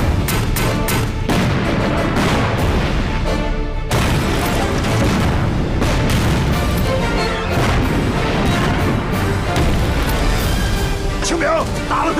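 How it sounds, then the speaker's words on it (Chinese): Mountain artillery cannons fire in a night raid on a Japanese airfield, loud repeated booms crashing through a dense, continuous wall of battle noise, with voices shouting beneath. "开炮！"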